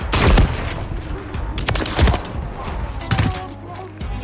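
Several rapid bursts of gunfire ring out in a multiplayer shooter game, loud and close, in three clusters separated by brief pauses, with a voice talking faintly alongside.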